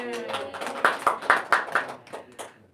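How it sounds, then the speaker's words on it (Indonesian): Scattered clapping from a classroom during a micro-teaching lesson, a few sharp hand claps spread across a couple of seconds with a voice speaking over them. "Betul, tepuk tangan."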